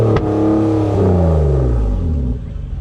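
A tuned Nissan Maxima revs hard and close with a sharp opening burst, then its engine note falls away. Crackling exhaust pops follow as it settles, with no talking.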